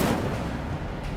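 A single heavy, booming blast of the Incendio fire spell in Hogwarts Legacy, loud and close, with a rumbling tail that fades over about a second.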